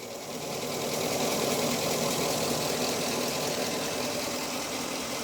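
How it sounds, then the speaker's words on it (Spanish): Car engine with a misfire on cylinder 2, revved to a steady 1500 RPM: a close, continuous mechanical drone with faint uneven knocking and ticking, rising briefly at the start and then holding, with no talking. "Voy a acelerarlo a 1500 RPM."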